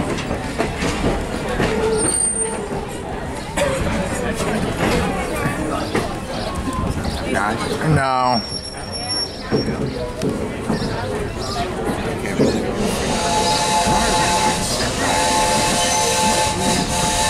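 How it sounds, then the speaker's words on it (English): A train passes at a railway setting, loud rolling wheels and clatter with a squealing whistle-like tone midway and bright metallic squeal toward the end, while people talk over it. "There's that train right here."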